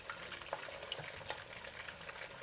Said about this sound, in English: Now we'll brown all the sides of the tofu